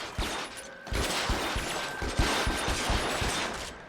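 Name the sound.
rifle gunfire from the video game L.A. Noire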